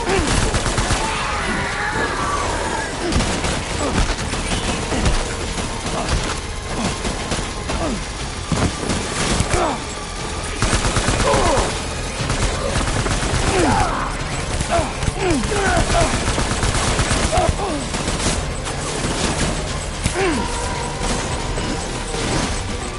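Sustained dense machine-gun fire rattles continuously at close range, layered bursts and mechanical clatter filling the whole stretch without pause.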